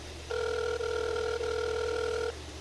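A telephone dial tone hums steadily for about two seconds while a call is being placed, a clear two-note buzz over faint background noise.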